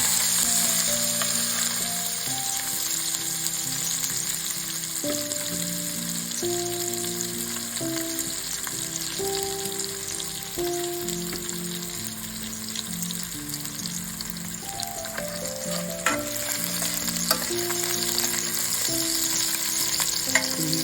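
Crushed small onions (shallots) fry in oil with a steady, loud sizzle and occasional stirring scrapes, continuous throughout, with a melodic music track playing underneath.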